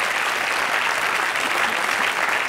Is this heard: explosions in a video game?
no